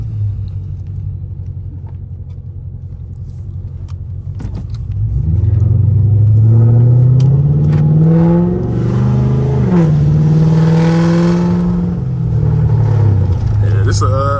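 Catless Hemi 5.7 V8 in a car revs hard while driving, a loud, deep rumbling surge that climbs and dips through several pulls, close and dominant after a quieter idle-like stretch.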